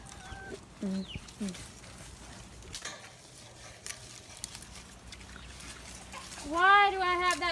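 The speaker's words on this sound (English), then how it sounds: "I'm about to throw some chickens over the fence in a minute so I can get them out of here." Chickens on a hog farm, clucking in brief scattered bursts at moderate distance with farmyard noise, a louder squawking run near the end.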